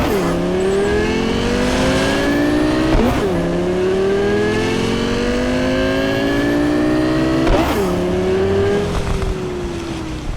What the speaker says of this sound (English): But I do like the pops and bangs with the exhaust.